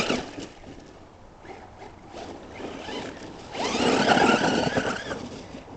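An FS Racing Victory X 1/8-scale RC buggy runs in a backyard, its motor whining and tires scrabbling at a steady distance, then surging louder and closer with a burst of revving and skidding near the end.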